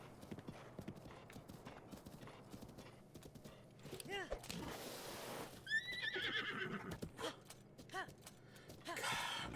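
Horse in the video game Breath of the Wild: hooves clip-clop steadily while the animal gives two or three loud, wavering neighs and whinnies, with breathy snorts between them.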